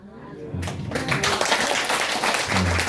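Applause rises from a church congregation, a dense patter of clapping that swells after a quiet start and carries on steadily, with a voice faintly audible beneath it.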